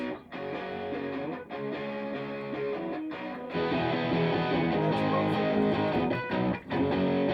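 Electric guitar through an effects pedal, heavily processed and sustained, strummed chords ringing loud and close with brief dips between phrases.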